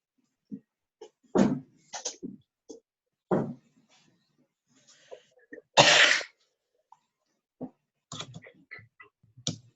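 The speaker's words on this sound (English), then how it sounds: "I've had this just cough, and I can't seem to get rid of it." Scattered coughs and throat noises break a quiet room, several short bursts and one louder harsh cough near the middle.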